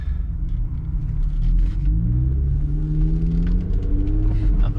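A Jeep Gladiator Mojave pickup with a 6-speed manual gearbox drives along, its engine a deep steady rumble that rises in pitch as it accelerates through short gears, heard from inside the cab with no talking.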